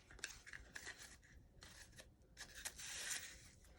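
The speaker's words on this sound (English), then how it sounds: "So I'm just gonna cut myself some strips." Scissors snipping through ribbon strips, a series of quick crisp cuts and rubbing rasps in irregular bursts, close and fairly quiet with no talk.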